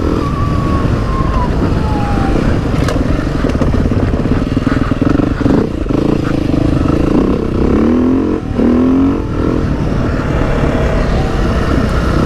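A Beta RR dirt bike ridden on its aggressive map, the engine droning loud and close throughout with rising and falling revs as the rider works the throttle.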